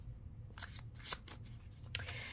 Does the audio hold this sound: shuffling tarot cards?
yes